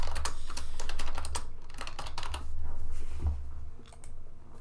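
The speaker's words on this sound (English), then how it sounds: "And for mod description, I'll just type in a basic description." Rapid clattering keystrokes on a computer keyboard as a mod description is typed, close and crisp in uneven bursts with brief pauses, no voices.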